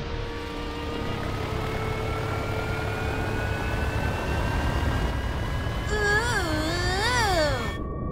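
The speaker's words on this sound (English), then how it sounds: "Victory flyover in 45 minutes." Cartoon aircraft sweep overhead in a victory flyover at a football stadium, a steady engine drone with rising tonal whines and a warbling, pitch-bending sweep near the end over continuous crowd-like background noise.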